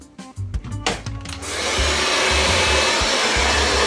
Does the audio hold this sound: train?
no